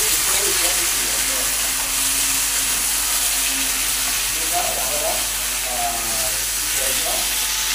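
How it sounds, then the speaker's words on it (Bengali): Stems, pumpkin and potato frying in a pan give a steady, close hiss and sizzle with occasional stirring scrapes throughout. "আর এই ডাঁটা কুমড়ো আলু একটু ভাজা করে নিই"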